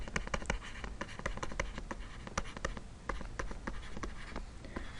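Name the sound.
pen writing on a surface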